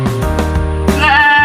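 A goat on a small farm gives a loud, close, wavering bleat near the start and another strained, quavering call toward the end, with no talking.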